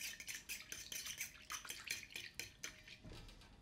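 Beer whisked in a bowl for a hair rinse: rapid, steady metallic clinking and scraping of a whisk against the bowl, close up and continuous with no talking.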